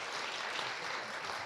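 Audience applause after panelists are introduced at an evening event, a steady, dense wash of clapping filling the room throughout without pause.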